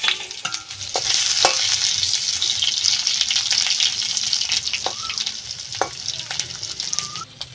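Raw mango pieces frying in a kadai with white mustard seeds give a steady, close hiss and sizzle, with occasional stirring scrapes and small pops throughout.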